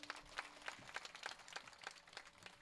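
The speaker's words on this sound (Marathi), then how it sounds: "जोरदार टाळी वाजवा जरा." Claps ring out from an audience at a Marathi kirtan during a continuous harinam saptah gathering. The clapping comes in steady rhythmic bursts, fairly faint and distant, with no talk over it.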